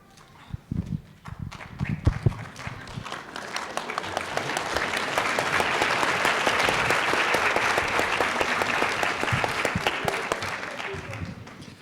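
An audience at a candidate forum breaks into clapping after a speaker's remarks, starting as scattered claps and swelling into sustained, dense applause that stays loud to the end.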